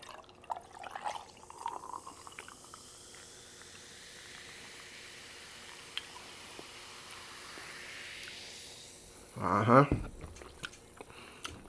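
Fresca soda opened and sipped up close, faint fizzing and bubbling hiss through a quiet stretch, with a brief louder burst near the end.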